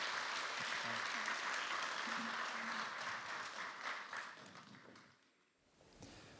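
Audience applause at a Lions volunteer service awards ceremony held by Jeonju MBC, a steady wash of clapping that thins out and fades near the end, with faint speech-like sounds mixed in.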